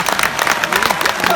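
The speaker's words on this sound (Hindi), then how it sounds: "मेरे स्वागत में दोबारा जोरदार तालियां बजाएं" An audience at a Hindi comedy show applauds: dense, steady clapping from many hands fills the room, loud and close, for a short burst.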